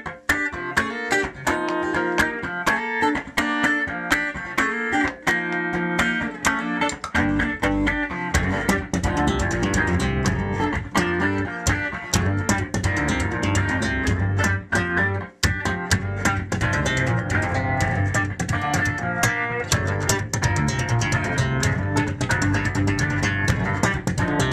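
Looped acoustic guitar played slap-pop style, layered into a dense, continuous groove of thumping percussive hits and bright plucked chords that repeats steadily and loudly for over twenty seconds without talk.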